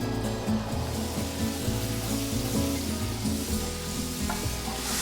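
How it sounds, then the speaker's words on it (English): Shrimp broth reduces in a hot pan, a busy, crackling sizzle with bursts of spitting and bubbling, steady and close for several seconds, no talk. "When you hear it sizzle like that"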